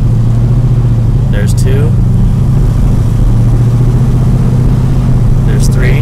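Car with a three-speed turbo 350 automatic transmission pulls hard through its gears, a loud continuous engine drone heard from inside with the window partly down, while someone speaks briefly over it.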